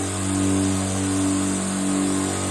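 Oil-free AUARITA air compressor with a 100-litre tank running continuously, a steady droning hum with a constant tone and slight pulsing, close and fairly loud with no voices.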